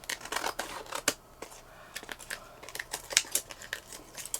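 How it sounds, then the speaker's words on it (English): Scissors trimming excess paper and lace from a handmade Victorian-style greeting card, giving close, irregular snips and papery rustles and crinkles at varying loudness, with no voices. "And then we can trim off the extra."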